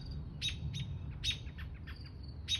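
Small birds chirp and tweet in short, repeated high calls near an owl on an outdoor nature walk, the calls coming in bursts over steady low background rumble at moderate distance.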